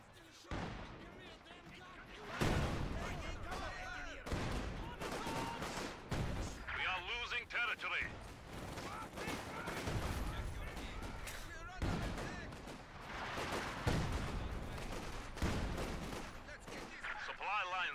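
Company of Heroes battle audio with repeated booming artillery blasts and bursts of gunfire, dense and loud, while game voice announcements speak over the combat.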